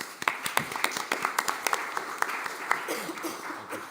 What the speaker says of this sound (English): Perhaps a round of applause for our panelists